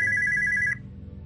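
A telephone rings in the video game Spooky's House of Jump Scares, a bright electronic trilling ring that pulses rapidly, then cuts off abruptly partway through, leaving low background murmur.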